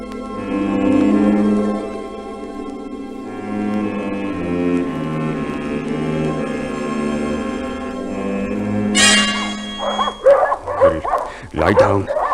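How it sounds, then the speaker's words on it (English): Dogs let loose around a house on a vintage farm in an old radio-style drama, barking and yipping loudly over tense music, with a voice breaking in near the end. "I'm letting the dogs loose round the house"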